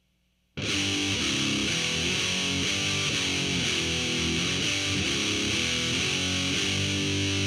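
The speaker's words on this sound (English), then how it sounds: "So together, slow, it sounds like this" A heavily distorted electric guitar starts abruptly and plays a slow heavy metal riff, a loud, dense, sustained wall of tone with the notes changing in a steady repeating pattern.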